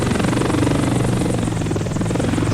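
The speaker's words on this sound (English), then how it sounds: "I think I might crash a helicopter in a minute" A helicopter in the Desert Combat video game thuds with loud, rapid rotor chop and a steady engine drone, continuous and close with no talking.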